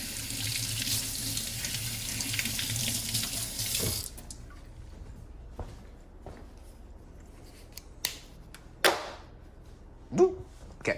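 An item is rinsed under a running kitchen tap for about four seconds. The water then shuts off, leaving quiet handling noises and a few light knocks and clatters.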